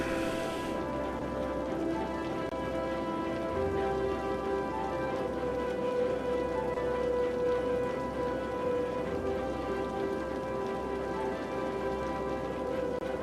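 Steady rain pours in a city-building game, a dense continuous hiss of falling drops over a low ambient hum, constant and fairly loud without any voices.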